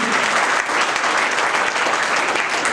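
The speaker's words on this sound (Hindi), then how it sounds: "जोरदार एक बार तालियां सर के लिए।" A meeting audience applauds the company's CMD, a loud, dense and steady wash of clapping that holds for the whole stretch with no speech over it.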